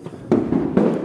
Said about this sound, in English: And it's fireworks time.